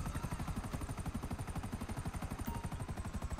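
Helicopter in a video game, steady rapid rotor thumping with a regular pulsing beat and a constant engine whine, fairly close and continuous, no talking.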